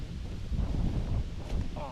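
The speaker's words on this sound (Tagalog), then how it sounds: "malakas ang hangin." A strong wind buffets an outdoor spot, rumbling and gusting as low, loud roaring in uneven surges across the whole moment, with no talking heard.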